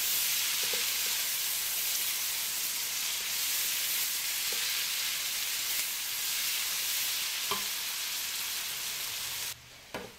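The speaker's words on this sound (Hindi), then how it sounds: "बस 5 मिनट तक हमने प्याज को इसी तरह से फ्राई कर लेना है" Onions frying in a pan with a steady, dense sizzle throughout, a few faint clicks along the way and a brief clatter at the end, no talk.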